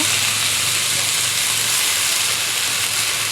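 Pumpkin greens and potatoes frying with spices make a loud, dense, continuous sizzle and hiss close by, without pause.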